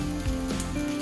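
Ghee sizzling steadily in a pan of frying banana balls, a continuous close hiss and crackle with no talking.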